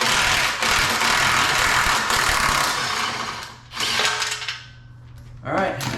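Power tool spinning off the last bolts on a 2013 Mustang GT, a loud, dense whirring burst for several seconds, then two shorter bursts after brief pauses, close to the microphone with no talk over it.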